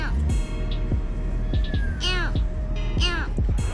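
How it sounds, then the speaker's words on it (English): A kitten meows repeatedly in high, thin, wavering cries, several distinct calls spread across a few seconds, heard close over a steady background hum with some voices. "These kitten meows almost don't sound real."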